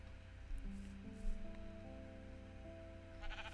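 Sheep in the Minecraft video game bleat softly a couple of times, fairly near but faint, over steady in-game background music and ambience.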